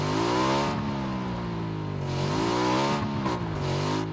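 Motorcycle engine in the video game PUBG, loud and close, its pitch rising and falling as the throttle opens and eases, with no talk over it.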